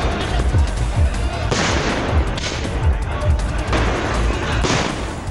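New Year fireworks over a campfire celebration at a crowded mountain resort, a dense crackling barrage of pops and booms rolling on without pause, loud and continuous with muffled crowd noise underneath.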